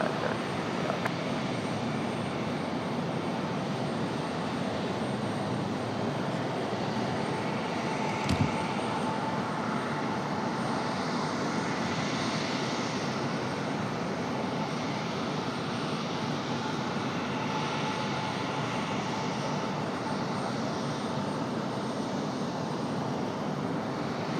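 An aircraft taking off from runway 23 right at Raleigh-Durham International Airport, a loud, steady engine roar heard from a distance that holds throughout, with one brief thump partway through and no talking.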